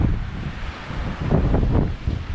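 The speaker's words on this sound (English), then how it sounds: "Wind's dropping away, sun's coming out." Wind gusts over a beach at evening, a rough, steady rush of air buffeting close against the microphone, with surf faintly beneath.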